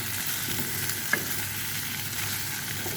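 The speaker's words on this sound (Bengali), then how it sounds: "এটা আদা রসুন জিরা বাটা আমি একসাথে মিক্স করছি।" Ginger, garlic and cumin paste being mixed in a hot pan for an egg curry, a steady broadband sizzle with faint scraping of the spoon and one brief clink, no voices.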